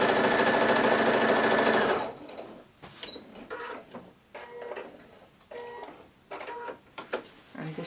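Sewing machine stitching a Christmas tree skirt quilt, a loud steady mechanical whir for two seconds, then quieter intermittent clicks, shuffles and handling of fabric, close by.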